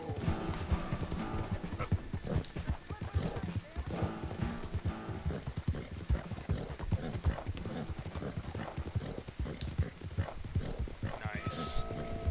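Horse hooves clip-clop in steady galloping rhythm in the Red Dead Redemption 2 video game, close and continuous, with voices over them and a brief high whinny near the end.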